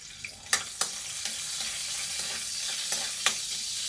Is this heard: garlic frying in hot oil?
yes